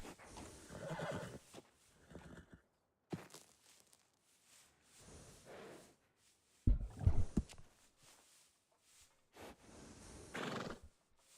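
A horse at a stable in Red Dead Redemption 2 whinnies loudly once, with soft hoof clops and rustling around it, separated by short quiet gaps.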